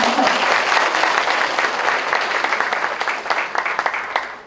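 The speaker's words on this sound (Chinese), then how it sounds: "拍拍手。" Steady applause from a ceremony audience at a civic awards event honoring outstanding citizens of Kaohsiung, dense clapping sustained throughout and thinning slightly toward the end.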